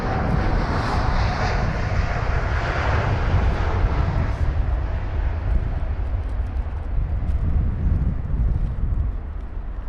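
An Edelweiss Air Airbus A340 on emergency approach to London Heathrow roars loudly overhead, a broad jet engine rush that swells then slowly fades.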